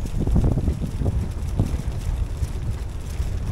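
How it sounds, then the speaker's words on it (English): Strong gusting wind roars and buffets a boat crossing back to the mainland, heavy low rumbling microphone wind noise that swells and fades continuously, close and loud with no voices. "Extremely windy, we're really being buffeted around here."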